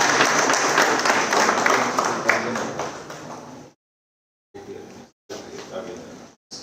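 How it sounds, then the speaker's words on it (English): Audience applause welcoming distinguished guests and dignitaries at an AI leadership summit, a steady round of clapping for several seconds that fades out, then resumes in shorter bursts after a brief silence. "let us extend a warm and heartfelt welcome to all our distinguished guests, dignitaries and guests with a resounding round of applause"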